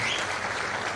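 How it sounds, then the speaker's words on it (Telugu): An audience at a farmers' gathering applauds, a dense, steady burst of many hands clapping that fills the whole second. "గట్టిగా చప్పట్లు కూడా చెప్పండి"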